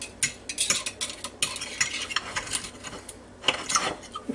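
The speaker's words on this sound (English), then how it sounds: "now I'm going to start cutting this up because I don't want it to be all in there in one piece like that" Cutting beef inside a Ninja Foodi Deluxe pot produces irregular scraping and clinking of a metal utensil against the pot, with soft sizzling underneath and no talking.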